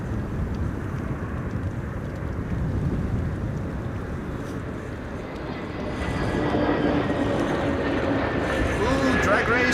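Airbus A321neo airliner at windy Amsterdam Schiphol airport, a steady broadband engine roar under heavy wind buffeting that swells louder over the last few seconds as the jet draws nearer.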